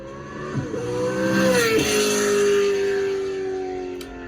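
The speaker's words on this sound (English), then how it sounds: "I hope the engine sounds real, not from Forza" A car engine revs up with a rising whine, holds a high pitch, then settles into a steady drone as it eases off toward the end.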